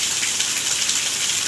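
Steady rain pours outdoors where a burrowing owl sits, a dense, even hiss of falling drops that stays constant with no talk.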